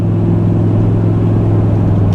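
A Mazda MX-5 on BF Goodrich Comp 2 tires runs flat out down a racetrack's back straight, its engine a loud, constant in-car drone with a deep, heavy rumble throughout.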